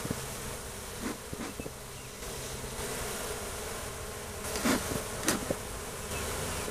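Honeybees buzz around an open beehive during an inspection: a soft, continuous hum with a few brief, sharper buzzes and light knocks as insects pass close by.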